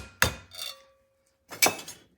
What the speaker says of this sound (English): A little bit of help with the hammer here.